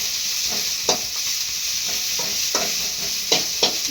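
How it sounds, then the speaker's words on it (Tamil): Chopped onions sizzle steadily in a hot pan, with a spoon scraping and stirring in a few distinct strokes over the constant frying hiss, close and fairly loud. "வெங்காயத்தை தீயை விட்டுறாம நல்ல பொன் முருகலாக வர வரையும் நல்லா அப்படியே கிண்டி விட்டுக்கிட்டே இருங்க"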